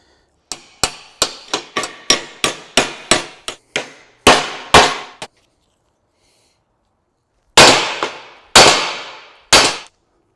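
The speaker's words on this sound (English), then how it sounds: "If you just take your hammer and you give it a whack right there and right there, it seems to shock it" Repeated hammer blows on a vehicle axle stub shaft, struck to shock it loose during a Spidertrax axle rebuild: a quick run of sharp metallic whacks, then a short pause and three heavier ringing strikes, close and loud with no talking.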